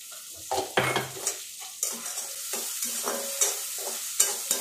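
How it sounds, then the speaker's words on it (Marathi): Half a bowl of frozen peas sautés in oil for samosa filling, a soft sizzle broken by repeated spoon scrapes and pan knocks in an uneven stirring rhythm, fairly quiet with no talking. "हे फ्रोझन वाटाणे आहेत ना अर्धी वाटी, ते टाकून द्यायचे, आणि त्यांना पण चांगलं तेलामध्ये परतून घ्यायचे"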